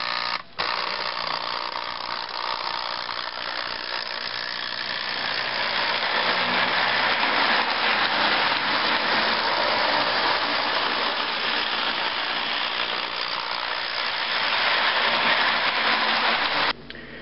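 Lionel post-war model train engine running on conventional power at around 12 volts, a continuous loud motor whir and rumble that holds steady for most of the stretch before cutting off near the end.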